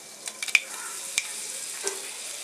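Two dried red chillies hit hot coconut oil with popped mustard seeds for cabbage thoran: a quiet, low sizzle broken by a few sharp, scattered pops and crackles.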